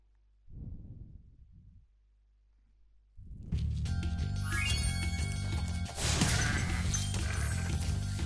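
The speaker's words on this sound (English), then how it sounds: "Gonna have to flame all the sheep." Sheep in the Spyro Reignited Trilogy video game give a couple of short bleats early on, then dense game music and effects take over loudly.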